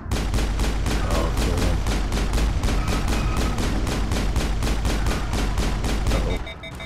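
Rapid, sustained shotgun gunfire in the Mass Effect video game, a dense run of loud, evenly spaced blasts roughly every quarter second, continuing for several seconds before cutting off abruptly.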